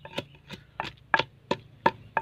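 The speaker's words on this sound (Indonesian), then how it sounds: "kita tumbuk sampai halus seperti ini" Organic fungicide ingredients for treating chili anthracnose pounded in a mortar, seven sharp knocking strikes in a steady, slightly uneven rhythm, close and clear with no talk.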